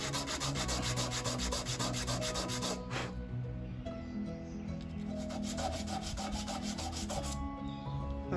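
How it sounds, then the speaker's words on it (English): Steady rhythmic rubbing of sandpaper against a small N-scale model train cab, close and continuous, with one brief pause partway through before the strokes resume. "I want to show you guys how easy it was to sand that thickness down."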